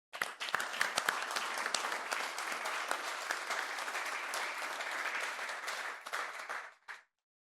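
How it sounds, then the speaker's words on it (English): A forum audience applauds its sponsors with a full, even wave of clapping that holds steady for several seconds, then cuts off abruptly. "So let's start with giving all our sponsors a quick round of applause."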